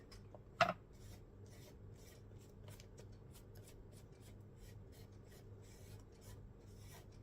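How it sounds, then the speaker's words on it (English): Paste is scraped off a stencil in steady, faint, close rasping strokes, opening with one sharp louder knock, then a soft, regular scratching rhythm continues alone. "Just scraping off the paste that's on my stencil."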